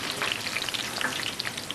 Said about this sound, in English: gently lower the chips into the oil